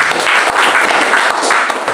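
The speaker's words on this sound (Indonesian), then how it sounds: "Berikan tepuk tangan." Applause from a church congregation at a family worship service, a dense steady wash of many hands clapping that fills the whole stretch at close, even loudness.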